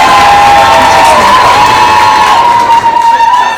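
A loud crowd at a comedy club night cheers and whoops for a comic, shouting voices piled together at full volume, with a few claps mixed in and the roar holding steady throughout.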